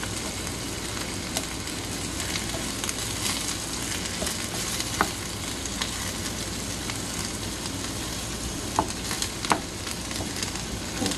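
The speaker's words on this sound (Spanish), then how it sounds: "A la que el ajo cae al aceite" Garlic and vegetables sizzle steadily in hot oil in a pan, a dense, even frying hiss with small pops and crackles scattered throughout, close and continuous with no talking.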